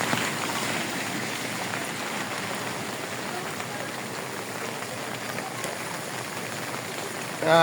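Steady rain hisses down without a break, a dense even patter with a brief louder burst at the very end.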